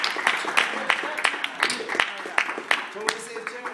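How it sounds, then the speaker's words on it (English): A small audience claps for Chanel in scattered, uneven bursts, moderately close, with a voice speaking briefly near the end. "let's give her a big round of applause"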